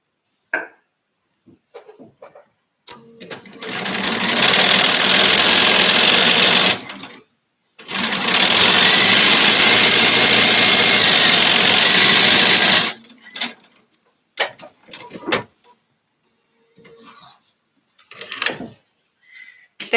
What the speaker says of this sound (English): So just going to give this a sew together, and then I'm back with you.